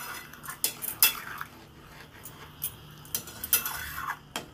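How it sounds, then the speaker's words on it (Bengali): Fried fish being stirred into a curry gravy with potato and taro in a pan, heard as scattered scraping and clinking utensil strokes against the pan, moderately close, with no talking. "ভাজা মাছটা দিয়ে ঝোলের মধ্যে ভালো করে ডুবিয়ে দেব।"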